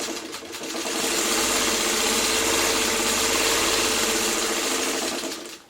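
A sewing machine stitches quilt block pieces together, running as a loud, close, steady mechanical whir with a fast rhythmic needle patter for about five seconds before stopping.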